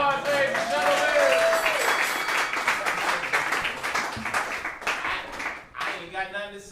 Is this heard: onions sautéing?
no